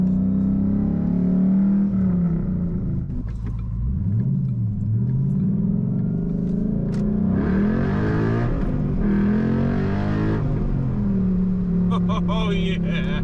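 A 2012 Ford Mustang Boss 302 on new tires, its engine a loud continuous rumble from inside the car that rises as it accelerates, with a brief drop and further revving surges.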